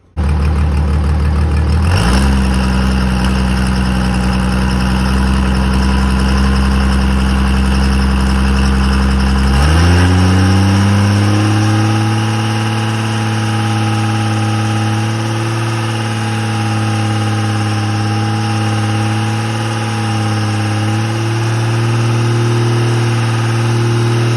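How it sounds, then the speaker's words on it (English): A turbocharged car engine idles steadily, then revs and spools up around ten seconds in, its drone rising and holding with the dump valve removed; loud and close throughout, with no talk. "So this first video you're going to see is with the dump valve off, and see how it spools up."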